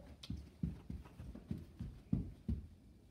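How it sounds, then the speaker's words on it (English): Donkey hooves clip-clop in a slow, even rhythm, about eight hollow knocks at a walking pace, close and fairly faint, used as a sound effect in a children's Bible story of Balaam. "And so Balaam saddled up his donkey, and off he went."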